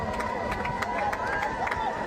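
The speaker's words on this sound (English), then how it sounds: "Very good crowd on hand here." Steady roar of a large football crowd at a senior night game, a continuous murmur with faint whistles and scattered calls, carrying on without a break.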